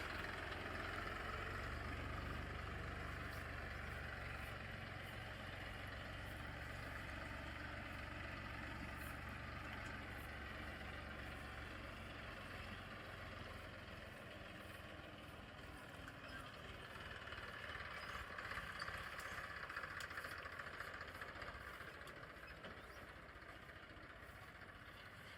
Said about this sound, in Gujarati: આપણા ખેતરમાં કલ્ટી મરાવવાની છે તો ટ્રેક્ટર આવી ગયું છે.